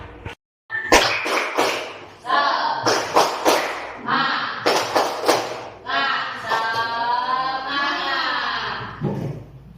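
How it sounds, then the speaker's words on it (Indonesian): A class of children in an Indonesian school performs a rhythmic spirit clap, sharp grouped claps in quick bursts mixed with loud chanting voices, close and lively. "Kita tepuk semangat."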